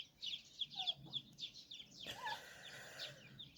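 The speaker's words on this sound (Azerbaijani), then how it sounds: "Bu muramur cücə." Young chicks of a bantam or Brahma-type breed cheep in a repeated high, thin stream of peeps, fairly close, with a few louder calls partway through and a low background rumble and no talking.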